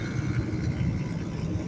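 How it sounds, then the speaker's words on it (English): A loud motorcycle passing on a highway near Atlanta's I-285 gives a steady, dense low rumble that fills the whole stretch, heard from inside a truck cab with no talk. "That's a motorcycle."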